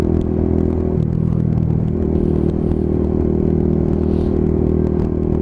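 A Lexmoto Tempest GT 125 motorcycle cruises along at normal speed, its exhaust giving a steady low burble under continuous wind and road noise, with no voices.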